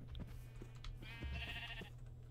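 Sheep bleating in the video game Minecraft, with a couple of short nasal bleats at moderate distance over low background hum and faint clicks.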